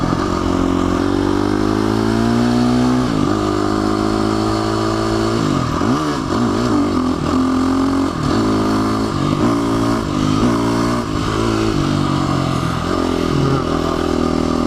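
A motorcycle engine revs and roars up close for the whole stretch, pitch climbing and dipping through repeated throttle blips, with a steady loud drone and some mechanical clatter during a wheelie attempt.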